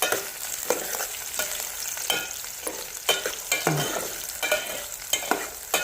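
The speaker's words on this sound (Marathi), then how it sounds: "आणखी थोडासा सोनेरी असा हा कांदा परतून घ्यायचा आहे." Thick-sliced onion sautés in hot oil while being stirred, with a steady sizzle broken by repeated scraping strokes of a utensil against the pan, close and moderately loud.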